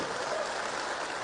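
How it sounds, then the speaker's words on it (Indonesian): An audience applauds at a speech event, a steady dense wash of clapping heard faintly and at a distance, with no distinct individual claps. "Kita berikan tepuk tangan kepada beliau"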